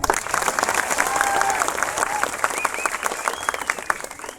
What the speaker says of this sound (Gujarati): અનંતભાઈ નો તાળીઓથી આભાર માનીએ